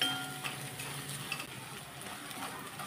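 Dal tempering ingredients, with coconut and garlic, sautéing and stirred in a pan over a low flame: a steady soft sizzle with scraping stir sounds running throughout, close and moderately quiet, no voices.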